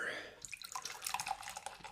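Chocolate orange stout poured from a 500 ml bottle into a glass, a short gurgling splash of liquid with dripping, bubbly sounds, close and fairly quiet.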